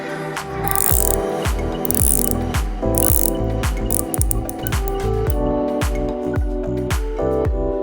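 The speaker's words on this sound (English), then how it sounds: "we will show you now how it sounds actually, so you can hear the clicks of the bezel" The unidirectional bezel of a Duxot Atlantica Deep Dive automatic watch is turned through a rapid, even series of crisp ratcheting clicks, loud and close, continuing steadily without any voice.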